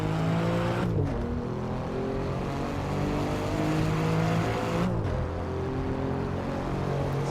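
A loud, continuous Alfa Romeo Giulia Quadrifoglio engine in Assetto Corsa revs hard through the gears, with harmonic pitch sweeps climbing and then dropping sharply at two gear changes, and no talk over it.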